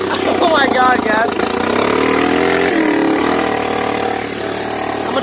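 Loud, raspy idle of a straight-piped Honda 300EX ATV with the FMF pipe removed, a steady low rumble with a brief rev, while a person speaks over it.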